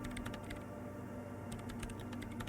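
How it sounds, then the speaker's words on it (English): Keyboard typing from the Disco Elysium video game: a faint, rapid clatter of keystrokes that runs throughout with no speech. "Her hands typing hundreds of commands into the machine."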